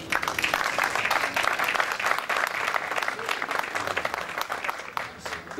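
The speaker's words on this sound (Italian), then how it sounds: "ancora un applauso per Walter Ricci." An evening audience in Italy claps steadily, a dense, even wash of applause that holds at full strength for several seconds.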